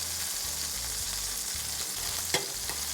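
Meat for a pot roast sears in a cast iron pan, a steady close sizzle and crackle of hot fat throughout, with a brief scraping clunk near the end and no talk.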